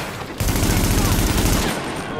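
Sustained rapid gunfire from The Division video game, a loud continuous burst of automatic shots lasting over a second with a dense rhythmic rattle, starting abruptly after a quieter moment.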